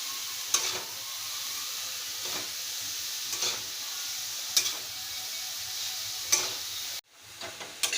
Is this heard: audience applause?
no